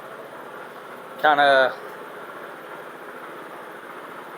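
A Benelli Zafferano scooter engine idles in a steady, even drone, close and continuous, with a brief spoken phrase partway through.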